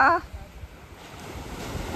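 Sea waves wash over the sand at Kashid Beach near Alibag, a soft, continuous surf hiss after a brief voice at the start.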